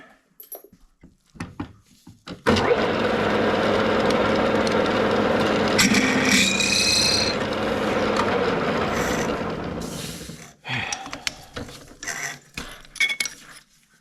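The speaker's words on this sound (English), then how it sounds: "the bolts are 3/8, and I'm going to drill it a little bigger than that." A drill bores holes for 3/8 bolts through a metal engine stand bracket for a Packard 356 block, a loud sustained grinding whine lasting several seconds, then scattered clanks and scraping of tools and metal.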